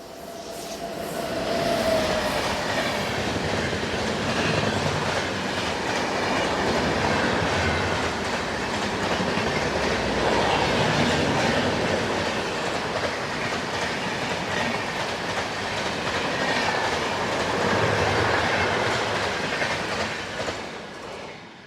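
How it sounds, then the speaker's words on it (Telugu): Prashanti Express train rushing through Pithapuram railway station at speed, a loud sustained roar of wheels with rhythmic clickety-clack and a brief horn near the start, fading out at the end. "ప్రశాంతి ఎక్స్ప్రెస్ అనుకుంటా వస్తున్నది"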